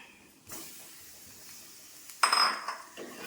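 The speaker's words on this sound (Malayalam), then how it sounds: "ഇനി നമുക്കിതിലേക്ക് തക്കാളി ചേർത്ത് കൊടുക്കാം." Chopped tomatoes tipped into a pan of cooked masala for an okra curry in coconut milk, heard as a soft clatter and a sudden sizzling hiss with a few metallic clinks of a spoon against the pan, close by.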